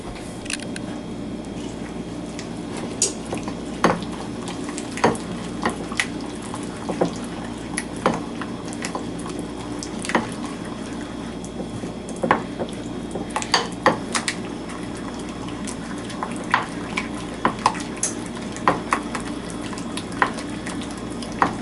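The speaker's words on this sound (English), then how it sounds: "And now we'll give this a good mix up." Roasted kajaka root and honey being stirred in a pan, a steady run of scraping and clinking utensil-on-pan contacts with sharper knocks scattered throughout, close and fairly loud with no talking.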